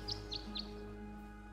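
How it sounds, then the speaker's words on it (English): Three quick, high chirps from birds at a bird bath in the game Tangle Tower, evenly spaced and faint over a steady low hum, with no talking. "The birds seem to like it. They're even singing a little tune."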